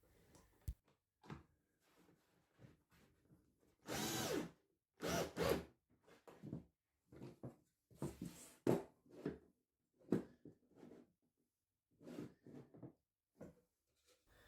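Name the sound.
power drill driving screws through framework into MDF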